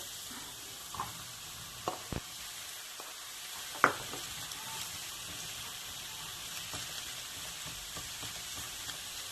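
Carrots and zucchini fry in a pan for a vegetable lasagne, giving a steady, even sizzle. A few soft stirring knocks and taps rise above it, with no talking.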